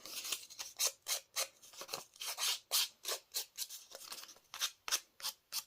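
Thin paper banner edges being distressed with a tool, a rhythmic series of short, crisp scraping strokes close up, about a dozen evenly paced rasps with brief pauses between.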